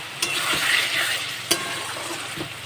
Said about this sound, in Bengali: এখন এটাকে নেড়ে চেড়ে ভালো করে কষিয়ে নেব যতক্ষণ না তেল ছেড়ে যাচ্ছে